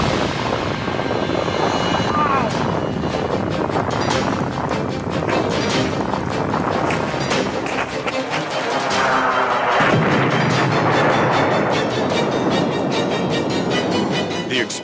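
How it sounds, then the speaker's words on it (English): A massive explosion at the PEPCON chemical factory, a loud sustained roar and rumble that fills the whole stretch and swells again partway through, with no break in the noise. "the fourth and largest explosion erupts from the factory"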